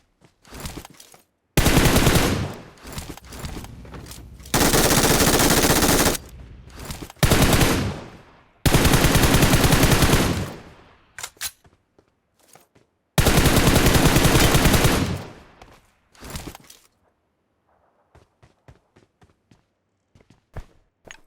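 Gunfire in the mobile battle royale game PUBG Mobile comes in several loud, sustained automatic bursts separated by short single shots and quiet gaps, with faint footsteps near the end.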